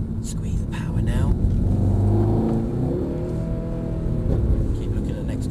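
A Mercedes car on a track accelerates with a rising, revving engine note and steady rumble, while a voice talks over the engine throughout.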